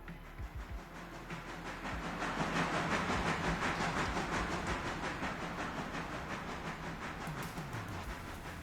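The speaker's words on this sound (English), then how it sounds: "if I'm lucky, I should have enough space here to stop the locomotive" A train video game locomotive brakes toward a stop, giving a steady rolling rumble with rhythmic clicking and hissing, fairly faint, with a metallic squeal near the end and no talking.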